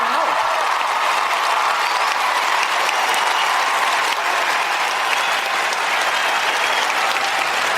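Dense, loud audience applause with cheering fills the whole stretch, a steady wash of clapping from a large crowd with no break.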